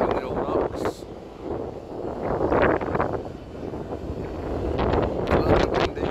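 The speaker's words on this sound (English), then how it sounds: "A little bit windy." Wind gusts buffet the microphone beside open water near a city airport runway, a steady roaring rumble with some louder swells throughout.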